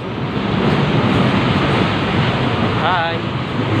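A metro train pulls into a Manila station with a loud, steady roar of wheels and rushing air that fills the platform, and a brief brake squeal near the end.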